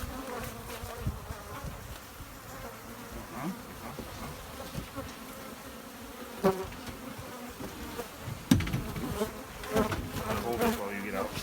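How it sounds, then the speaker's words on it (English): A swarm of killer bees buzzes steadily around a boat outdoors, a dense continuous drone with occasional louder passes close by and scattered handling knocks. "So we got rid of the bees on the boat"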